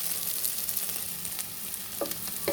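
Chopped onions fry in a pan until golden for a spinach onion-chili dish, giving a soft, steady sizzle with a few light stirring scrapes and no talking.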